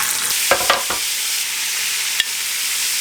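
Scallops fry in plenty of butter in a pan, giving a steady broadband sizzle with a few brief stirring scrapes and clicks near the start and one sharp tick later.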